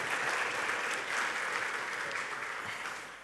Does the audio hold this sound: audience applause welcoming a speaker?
yes